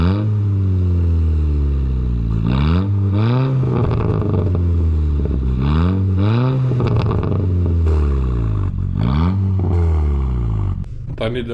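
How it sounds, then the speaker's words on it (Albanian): Revving VW Golf V GTI from 2006 with a DSG gearbox, its resonators and catalysts removed, giving a loud, throaty engine note that rises and falls in repeated rev sweeps, with people talking over it. "Genci i ka heq rezonatorët e katalizatorët e Golfit vet, edhe ka edhe goxha zhurmë të bukur, më e fortë se standardja"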